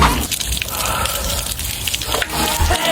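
Water pours and splashes continuously, with dripping and spattering mixed into a wet, uneven rush close by.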